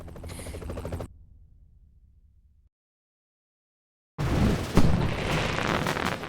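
An explosion in the co-op action game Broforce bursts in loudly after a brief silent gap and rolls on as a dense, noisy rumble with a sharp crack partway through.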